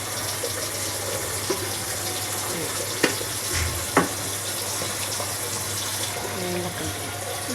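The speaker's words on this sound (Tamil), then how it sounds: "இப்போ நல்லா கிண்டணும்." Chili powder frying in oil in a pan gives a continuous close sizzle and hiss, with a couple of sharp spoon taps against the pan as it is stirred.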